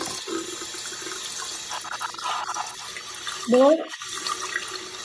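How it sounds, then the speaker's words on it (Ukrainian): Running water from a tap splashes steadily in the background, with a brief louder gush near the end; a voice is heard faintly. "Вода з крана біжить."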